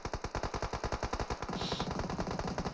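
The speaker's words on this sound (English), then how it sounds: "A lot of gunfire happening" Rapid automatic gunfire in PUBG Mobile rattles in a steady burst throughout, loud and close, with a brief sharp high-pitched whoosh in the middle.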